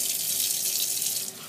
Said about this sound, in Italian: ce ne mettiamo dentro un po' più caldo di acqua